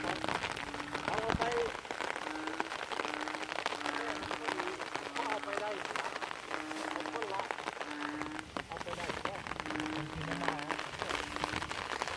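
Steady rain falls in a forest area with flooded water nearby, a dense continuous patter under repeated chirping calls that could be frogs or insects. Someone speaks over it throughout.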